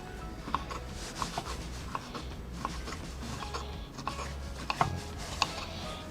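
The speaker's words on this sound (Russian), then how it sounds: "Так, показываю, как мы режем кубиками." Knife chopping crunchy pickled cucumbers into cubes on a board for meat solyanka cooked outdoors, with a series of irregular sharp cuts over a steady background noise.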